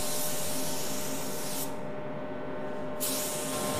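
Steady close hiss of a spray gun laying sealer onto a car during a custom paint job, with a brief dip in the spray partway through before it resumes.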